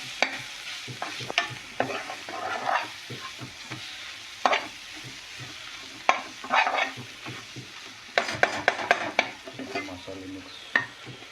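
Spice masala for prawn gravy sautéed in a pan with onion and tomato, heard as uneven bursts of spatula scraping and knocking over a low sizzle, close by with no talking.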